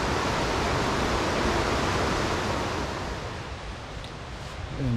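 Creek water flowing along the Twin Creeks hiking trail in Gatlinburg, a steady dense rushing wash that stays loud and continuous, easing slightly toward the end, with no talking.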